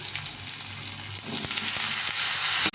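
Black cumin, green chili and boiled whole garlic hit hot oil in a pan. The crackling sizzle swells louder over a couple of seconds and ends with a sharp utensil clatter.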